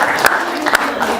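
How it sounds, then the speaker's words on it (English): Short burst of applause from a small audience at a small-business marketing talk, a few claps spiking briefly then trailing off amid room noise. "Give Sarah a round of applause"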